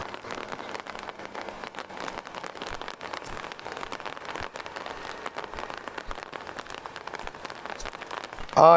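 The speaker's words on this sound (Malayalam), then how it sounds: "പക്ഷെ എന്ത് മഴയാണ് ഇപ്പോൾ തുടങ്ങിയത്." Heavy rain pours down steadily, a dense, constant patter drumming on surfaces with no voices.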